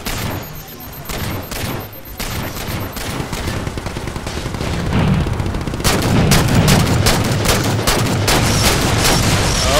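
Halo 4 Big Team Infinity Slayer gunfire on the Ragnarok map, dense loud volleys of repeated shots and bursts throughout, growing heavier and more sustained toward the end, with occasional booms.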